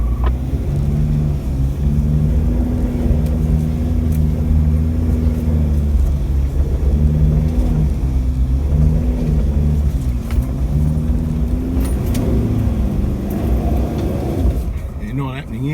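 A Toyota Hilux engine labours and revs on a rough, hard section of the Gradys Creek 4WD track as its tyres spin. A loud, steady drone wavers in pitch throughout, with voices over it.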